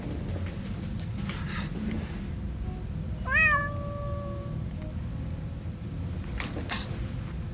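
A person imitates a cat with a single drawn-out meow midway through, heard over a steady low background hum.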